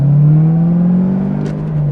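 A Corvette ZR1 pulls onto a freeway under moderate acceleration, a steady rising engine drone heard from inside the car, with a brief crackle partway through and no talking.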